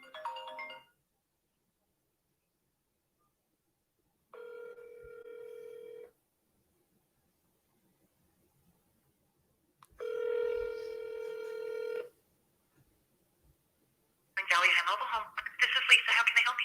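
A phone call goes out to a business cell: a brief burst of dialing tones, then two long electronic rings separated by pauses, followed by a voice answering on the line.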